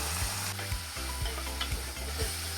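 Onions and native curry leaves frying in a pan for a Kerala-style fish head curry, a steady loud crackling sizzle with a low hum underneath and a few soft stirring knocks, close up and continuous, no voices.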